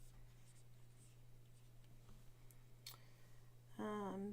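A pencil sketching a decorative design on paper, faint scratchy strokes over a steady background hum, ending with a brief louder tonal sound.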